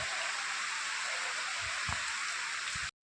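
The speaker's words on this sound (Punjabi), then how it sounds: "ਪੂਰਾ ਮੀਂਹ ਪੈ ਰਿਹਾ ਬਾਈ ਫੁੱਲ ਬਾਰਿਸ਼ ਹੋ ਰਹੀ ਆ" Heavy rain pours down in a steady, dense hiss, with a few low thumps underneath, and stops abruptly at the end.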